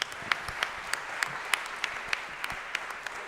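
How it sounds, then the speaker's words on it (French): Faint, sparse audience clapping after a lecture, a handful of distinct claps landing in a loose, fairly regular rhythm over a quiet room, with no voices. "On peut applaudir Anne Lovrégion"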